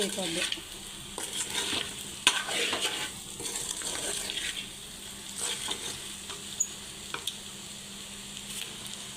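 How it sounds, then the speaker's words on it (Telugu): Farm chicken pieces fry in a pan while being stirred continuously so they don't stick, a close, dense sizzle broken by repeated scraping and clinks of a spoon against the pan, with no talking. "ఇది అడుగంటకుండా ఇట్లా చక్కగా తిప్పుకుంటూ ఉంటే బాగా ఫ్రై"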